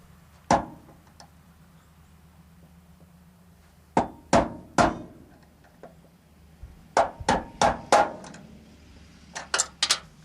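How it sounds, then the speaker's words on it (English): Sharp metallic hammer blows on a screwdriver knock out door pin bushings on a 1988 Chevy, about eleven hits in short bursts with quiet pauses between, close and loud. "knock them out with a screwdriver and a hammer"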